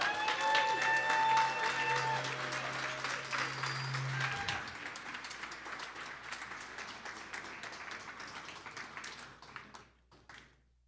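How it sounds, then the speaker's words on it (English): Audience applause for black card recipients at an awards celebration show, sustained clapping under music and a voice early on, gradually thinning and stopping at the end. "Let's clap up for the black cards."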